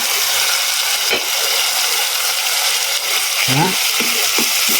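A cooking pan of sautéed tomatoes sizzles steadily, with a spoon scraping and crushing the softening tomato in short stirring strokes partway through; a Filipino ginisang upo dish in progress, no talk.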